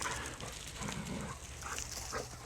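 Excited dogs outdoors on a property where spraying is being done, giving short low whimpers and snuffling bursts amid steady background noise, with no clear barking.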